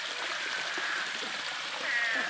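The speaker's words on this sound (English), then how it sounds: "We've got a waterfall on the property now." Waterfall pouring on a rural property after a tropical storm: a steady, even rush of falling water, unbroken and fairly close, with no talking.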